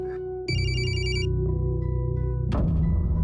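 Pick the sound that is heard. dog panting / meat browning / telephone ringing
telephone ringing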